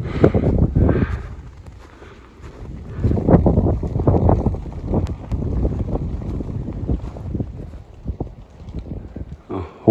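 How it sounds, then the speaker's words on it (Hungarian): Strong wind roars and buffets the microphone on a snowy meadow near the Pilis summit in Hungary, gusting in loud waves with a low, rumbling blast throughout. "Na itt aztán már fúj a szél."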